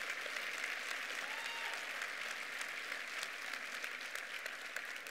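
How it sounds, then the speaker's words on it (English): An audience at a church Christmas service applauds steadily in a dense, even wash of clapping that carries on for several seconds at moderate, somewhat distant level. "give them a huge round of applause as you come"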